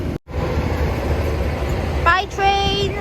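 A train on the Tyndrum and Crianlarich line in the Scottish Highlands rumbles past nearby with a steady low roar, and a rising whistling whine enters near the end.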